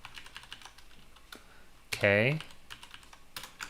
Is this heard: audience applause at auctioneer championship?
no